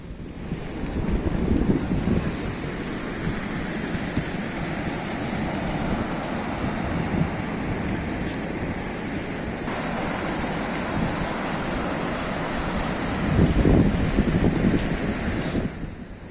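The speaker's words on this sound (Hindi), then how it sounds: "बारिश की वजह से बाढ़ आ गई है, जिसके कारण तापी जिले के पंचोल और कुंभिया गांव को जोड़ने वाला पुल बह गया" Floodwater from heavy rain rushes loudly and continuously near a washed-out bridge linking two villages in Tapi district, a dense roar with gusty wind buffeting the microphone and no voices.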